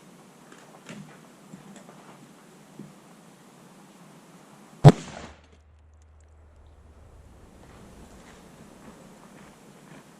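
A single sharp, loud 6.5 Creedmoor rifle shot is fired into a gel block, firing a 140-grain Barnes Match Burner bullet; faint low rumble and quiet shuffling surround the crack.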